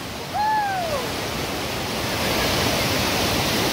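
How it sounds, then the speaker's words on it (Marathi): Namnang waterfall near Nathula Pass in Sikkim, a broad, continuous roar of falling water heard close and steady, with a short whistle-like call briefly rising over it. "मित्रांनो, समोर जो आपण धबधबा पाहता तो आहे नामनांगचो"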